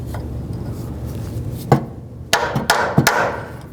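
A few sharp metallic taps of a hammer on a punch, marking a 1992-2000 Chevy Tahoe front upper control arm, ring out, one alone then a quick cluster of three or four strikes, over a low background hum.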